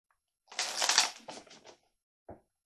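Tarot cards shuffled by hand during a reading, giving a close, crisp papery riffle that runs for over a second, then a few shorter flutters and one brief final snap, with no talking.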